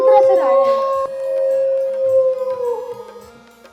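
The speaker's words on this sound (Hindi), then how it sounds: "ये कुत्ता रोता हुआ इधर ही क्यों आ रहा है?" A dog howls and cries in a long, mournful, wavering wail that rises and falls, close and loud, breaking into whimpering yelps toward the end.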